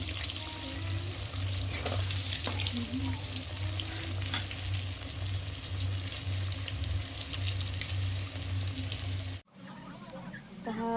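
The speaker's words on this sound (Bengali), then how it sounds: "আর এখন হচ্ছে পটল ভাজা" Slices of pointed gourd (potol) coated in turmeric fry in hot oil with a steady, broad sizzle and low background hum, ending abruptly near the end before faint room noise returns.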